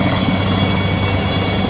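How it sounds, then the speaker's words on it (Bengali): Two Cheetah military helicopters pass overhead during a Victory Day rehearsal, a loud, steady broadband rotor and engine roar with no break, holding even for the whole stretch. "দুটো চিতা হেলিকপ্টার চলে এসেছে"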